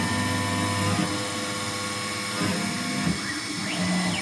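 A CNC end mill machines Nitro-V stainless steel on a Langmuir Systems machine, a dense, steady machining drone with a shifting whine and light scraping, close and continuous.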